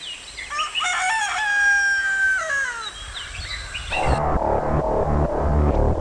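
An Ayam Cemani rooster, the all-black Javanese chicken breed, crows loudly and close in one long drawn-out call, followed by a burst of busier, noisier sound as the crow ends.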